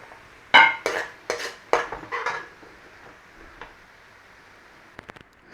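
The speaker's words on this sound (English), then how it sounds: "but I'm actually going to put it in a bowl." Cooked chorizo is spooned from a pan into a bowl, giving a series of sharp metallic scrapes and clinks close by, then quieter taps and a few light knocks near the end.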